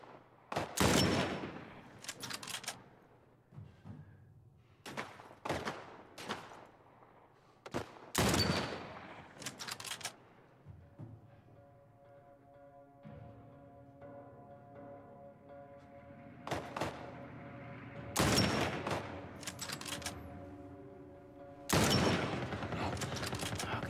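Bursts of gunfire in The Last of Us Part 1 remake on PS5, loud clustered volleys of shots separated by pauses, with a low steady game hum between and brief talk.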